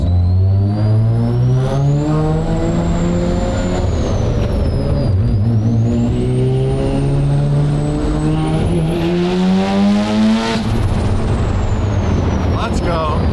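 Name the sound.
Porsche car driving and accelerating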